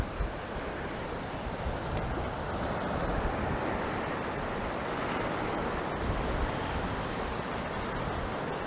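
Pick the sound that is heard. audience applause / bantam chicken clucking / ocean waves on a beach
ocean waves on a beach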